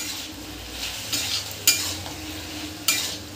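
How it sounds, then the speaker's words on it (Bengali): Ridge gourd frying with salt and turmeric in a pan, a close steady sizzle broken by a few brief stirring scrapes. "নুন হলুদ দিয়ে একটু ভাজা ভাজা করে তুলে নেব।"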